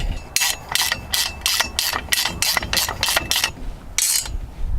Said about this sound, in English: And we will do up the bolts.